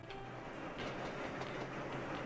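Passenger train arriving in the video game Sweet Transit, a steady rolling rumble with faint rhythmic clatter, quiet and unbroken for a couple of seconds, no voices.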